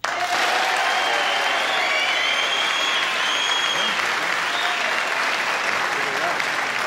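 Sustained studio audience applause on a 1972 late-night television talk show, loud and dense throughout, with faint crowd murmur mixed in.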